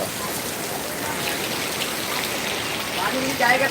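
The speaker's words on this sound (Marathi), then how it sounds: "खूप डेंजर पाऊस आहे इकडे" Heavy monsoon rain pours down steadily in Ratnagiri, Sangameshwar in Konkan, a dense unbroken hiss that swells slightly near the end, with faint voices talking underneath.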